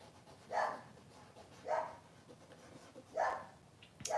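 A dog barks three times at a steady pace, each bark fairly faint and a little distant, over quiet room background with no talking.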